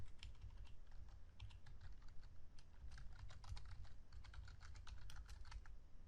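Steady, rapid typing on a computer keyboard while writing database code, continuous close key clicks at an even pace with no voice over them.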